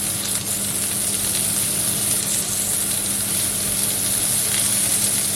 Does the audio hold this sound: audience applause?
no